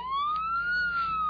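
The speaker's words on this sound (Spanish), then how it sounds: "Te dejo que estoy escuchando la sirena." A police siren wails steadily in a rising, sweeping tone, fairly clear and sustained, with no voices over it.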